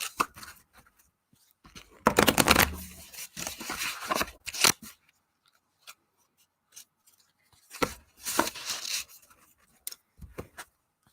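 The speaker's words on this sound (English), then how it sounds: "Shuffle some more. Shuffle some more." Tarot cards being shuffled by hand, giving bursts of dry riffling and rubbing rustle in two main spells separated by quieter handling, close and alone.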